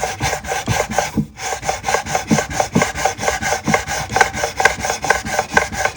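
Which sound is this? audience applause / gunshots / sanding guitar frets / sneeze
sanding guitar frets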